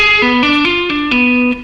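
Electric guitar plays a string-skipping tapping lick in a rock style, a quick, even run of sustained, effected notes stepping in pitch, loud and alone.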